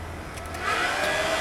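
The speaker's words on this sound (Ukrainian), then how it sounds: "Так що запускаємо вентилятор." Fan of a homemade gas heater built from a ZAZ car heater starting up, a steady loud whirring blow that rises in strength and then holds, close by with no talk.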